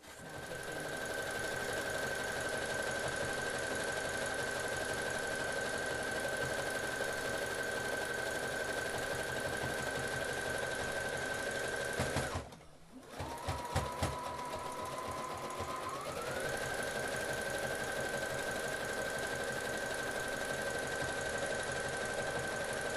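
A sewing machine runs a steady zigzag stitch along the bottom of a fabric shoe bag, its motor whirring loud and continuous, pausing briefly before resuming.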